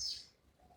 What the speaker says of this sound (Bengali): পাখিগুলো ডাকছে দেখো,